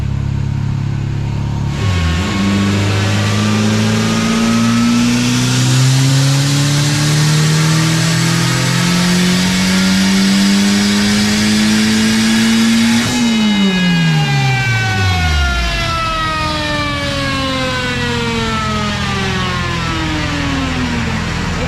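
A turbocharged Honda K24 car engine, with no boost controller, revs up steadily, pitch climbing for several seconds through a faint VTEC crossover before dropping sharply and winding down, loud and close with no talking.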